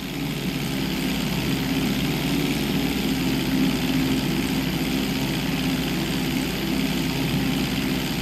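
Steady loud propeller airplane engine drone in GTA V, a continuous unbroken roar with a low rumbling hum and no pauses.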